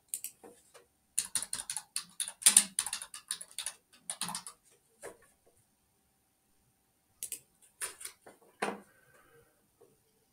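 Bursts of clicky computer keyboard typing in two spells, a dense run of keystrokes followed by a pause and a shorter burst, close and fairly quiet with no talking.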